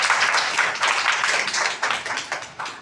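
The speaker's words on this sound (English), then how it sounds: "Clap for them." A class of young students claps together in a classroom, loud and close, with quick irregular bursts of hand claps running through the whole moment.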